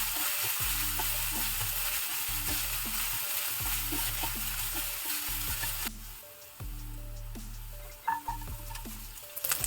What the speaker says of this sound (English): Then toss in 2 tablespoons of finely chopped ginger and few red chili flakes. Fry all this well together.